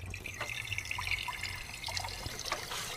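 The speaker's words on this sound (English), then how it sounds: "Turn on the tap. Alright, water is running." Water runs from a tap with a steady trickling, splashing flow, close and fairly quiet, with a few faint drips and knocks mixed in.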